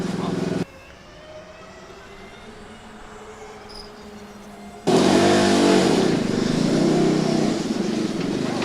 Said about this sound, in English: Car sure sounds spectacular. Lots of popping and banging in the upshifts.